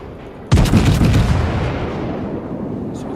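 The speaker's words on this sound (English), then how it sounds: "So we've got 2 turrets fired there." A warship's turret guns in World of Warships, aboard the battleship Lyon, let off one sudden, heavy salvo boom that rolls into a long, rumbling decay, loud and close with no voices.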